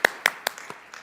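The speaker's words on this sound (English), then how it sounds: "So let's give a round of applause for that." A few people clap in a small room, five sparse, separate claps spaced evenly and fading in strength, with no talking over them.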